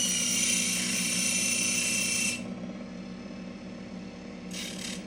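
A jewelry buffer machine polishing scratches and discoloration off a piece near its handle, a steady loud whirring hum that drops in pitch partway through, then a brief higher whine returns near the end.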